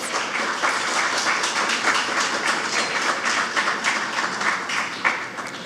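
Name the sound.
audience applause for presenters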